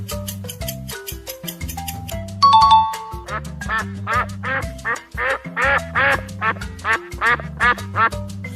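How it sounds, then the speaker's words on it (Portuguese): A duck quacks in a rapid run of loud, nasal calls, close and clear, preceded by a brief chiming tone, with no voices. "esse som é o som do pato"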